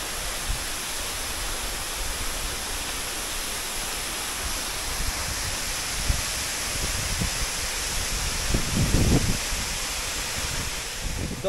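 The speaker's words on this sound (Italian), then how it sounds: "Eccomi alla cascata del Pescone inferiore." Steady broad rush of water at the lower Pescone waterfall in snowy conditions, a constant close roar with some wind buffeting on the microphone and a few brief low thumps.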